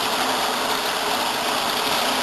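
Water pours from a hose through a sand filter, a continuous loud rushing, splashing flow that stays constant throughout.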